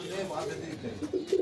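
Close, low pigeon coos rumble from a home loft of high-flying birds, a brief throaty burst rising toward the end while someone speaks over it.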